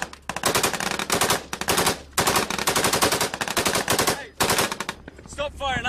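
Rapid automatic gunfire from the weapons on a military vehicle in Afghanistan rattles out in loud, close bursts with short gaps between them, and the firing stops near the end.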